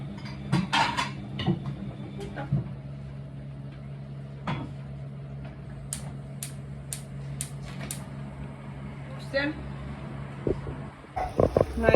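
Metal lids of preserving jars for eggplant caviar are set into a pot of water, giving a series of light, sharp clinks and taps over a low, steady kitchen hum.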